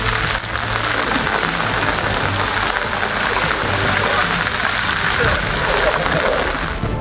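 Heavy cloudburst rain in Kerala, near Infopark where floodwater pooled, a dense, unbroken roar of downpour hammering surfaces, loud and steady for the whole stretch with no talk over it.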